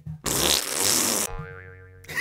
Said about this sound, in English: Keep the farts coming.